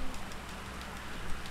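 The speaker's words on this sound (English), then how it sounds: "Well, it is raining." Rain falls in GTA Online, a steady dense hiss of drops with faint scattered patter, continuous and even throughout.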